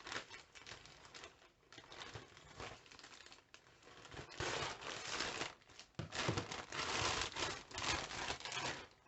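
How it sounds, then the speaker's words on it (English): Subscription box of pet treats being cut open with scissors, faint crinkling and rustling of packaging in irregular bursts that grow busier and louder toward the end. "Let's open it. I have my handy dandy scissors."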